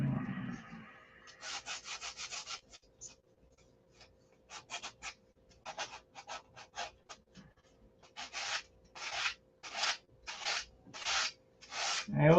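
Wood is sanded by hand with sandpaper in quiet bursts of rhythmic back-and-forth rasping strokes, some short and some longer, close by and with no voices.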